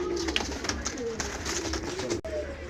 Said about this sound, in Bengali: খুলনার বিখ্যাত গলাইলাল কবুতর